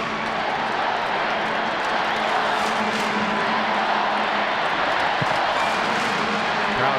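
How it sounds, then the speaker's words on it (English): A stadium crowd at a Canada versus USA women's international friendly soccer match in 2014 keeps up a steady, loud roar of cheering and applause that holds even throughout, with no single peak standing out. "Crowd coming to life here, a little more than halfway through the second half"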